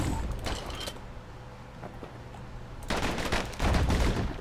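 Slinger pistol fire in the video game Bastion, rapid bursts of gunshots at the start and a heavier volley toward the end, around a quieter stretch with brief talk.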